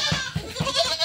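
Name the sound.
goats bleating on a farm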